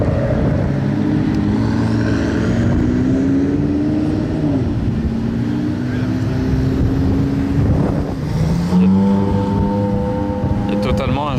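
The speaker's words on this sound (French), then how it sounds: "Wow, regardez toutes les voitures là qui arrivent." Sports cars, including supercars and a Mercedes GLC 63, driving on the Circuit Paul Ricard racetrack, engines roaring loud and continuous as revs rise and shift, with wind buffeting and someone talking over it.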